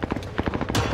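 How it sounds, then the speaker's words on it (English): Rapid bursts of automatic gunfire in the video game Warzone, close and loud, firing in quick thumping pulses across one second, ending in a brighter sustained blast. "Who are you shooting at?"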